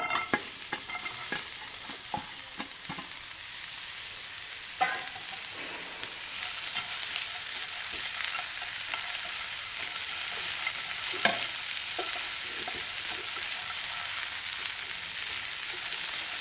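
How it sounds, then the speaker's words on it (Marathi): Chopped onion roasts with toasted sesame seeds in a pan under a continuous, hissing sizzle, with scattered sharp clicks and scrapes from stirring throughout. "आता याच्यातच आपण जो कांदा घेतलेला आहे तो पण भाजून घेऊया।"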